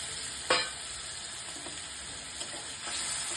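Potato curry with peas sizzles quietly in a pan, a single sharp splash or stir near the start, then a steady low hiss with a few faint scrapes and a slight swell toward the end.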